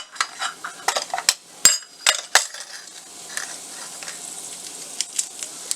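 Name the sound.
mustard seeds, lentils, cumin frying in hot oil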